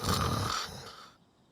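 A voice imitates snoring in a single short, throaty snort-like breath that is loud at first and then fades away to quiet.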